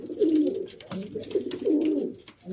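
Racing pigeons in a race loft give soft, throaty coos in repeated phrases, close and clear, with a quiet indoor background.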